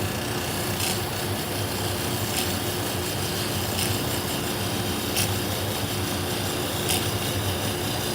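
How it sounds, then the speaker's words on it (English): Salon shears being sharpened in a workshop produce a steady, dense grinding and rasping texture that runs unbroken throughout, with faint periodic scraping accents roughly every second or so. "We sharpen salon, barber, and pet grooming shears."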